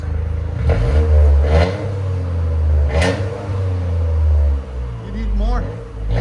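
Modified Toyota Corolla GR Circuit Edition with a resonator-delete exhaust and a half-open valve, engine blipped in several short revs that swell and fall over a steady low rumble, close by, with voices talking over it.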